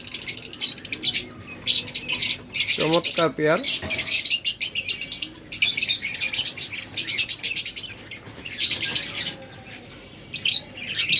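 Caged pet lovebirds and budgerigars, including a breeding pair, chirp and tweet in rapid, busy bursts throughout, with a brief squawk and a person speaking briefly among them.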